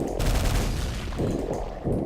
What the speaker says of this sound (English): Switch to the nail gun for the tar babies.